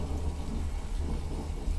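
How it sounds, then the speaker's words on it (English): Steady rain hisses with a deep rolling rumble of thunder beneath it, a continuous, fairly even wash with no voices. "Is the rain too loud?"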